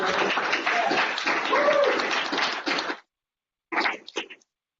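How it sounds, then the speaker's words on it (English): A conference audience at an agile-culture talk gives a round of applause for about three seconds, then it cuts off abruptly, followed by a brief voice. "we need a round of applause for everyone"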